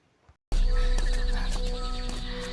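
A horse neighs loudly in a Chinese period film, a sudden close whinny bursting in after a brief quiet moment and ringing on with a bright, sustained cry over a busy background.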